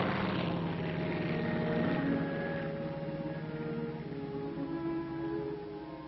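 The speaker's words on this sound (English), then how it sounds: "The plane must be brought in low" Propeller airplane flying low over an ice drop zone during a supply drop: a sustained droning engine with steady propeller hum, fairly loud and continuous, slowly shifting in pitch as it passes.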